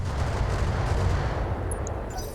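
Heavy weapons fire in the mech combat game Battletech, modded as Roguetech: a dense, loud, continuous barrage of booming shots and rumbling impacts, with a few brief high-pitched tones near the end and no voices.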